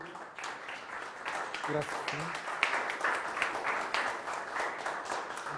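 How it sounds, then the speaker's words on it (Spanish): An audience at a talk on impulsive noise claps for the presenter Felipe, a steady mid-level patter of hands lasting several seconds with a short spoken thanks over it. "damos un aplauso a Felipe"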